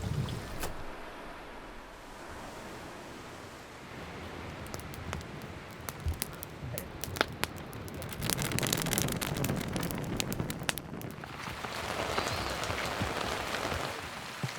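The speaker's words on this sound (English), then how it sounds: "I think it's gonna rain all day." Steady rain patters outside on a drizzly coastal day on Haida Gwaii, British Columbia, a dense close hiss with scattered sharper drops hitting surfaces, no voices.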